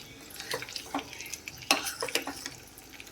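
Wheat rava prasadam gets stirred in a pan, with a spoon scraping and knocking in uneven strokes over a soft, steady sizzle, close and fairly quiet, with no voices.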